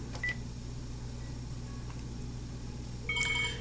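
Panasonic TGP cordless phone handset beeping while ringing a second handset: a short tone early on, then a brighter cluster of electronic beeps near the end over a steady low hum.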